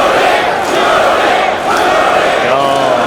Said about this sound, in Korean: 관중들이 주리의 이름을 외쳐주고 있습니다.